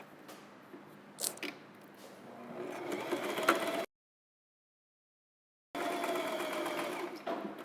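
A sewing machine top-stitches a linen napkin, running in a steady close mechanical whir, stopping for a short silent pause, then resuming at the same even pace.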